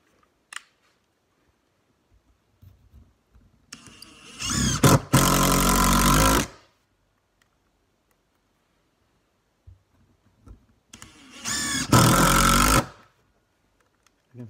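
A Ryobi brushless power tool whirs up in two separate bursts of about two seconds each, loud and close, with quiet gaps and faint handling clicks between them.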